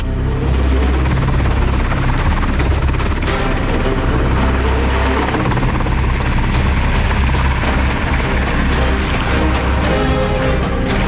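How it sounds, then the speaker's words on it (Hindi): Military helicopter coming in to land at a mountain army post, its rotor thudding loud and steady with a heavy engine whine throughout, close by and without speech. "अभी यहाँ पर एक हेलीकॉप्टर इस वक्त उतर रहा है"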